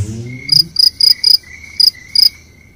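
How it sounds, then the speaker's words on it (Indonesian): A cricket chirps in six short, bright pulsed bursts at an uneven rhythm, close and clear over a quiet background, with a brief low tone fading out at the start. "Jangkrik, otak kosong gitu, impossible. Krik krik krik krik."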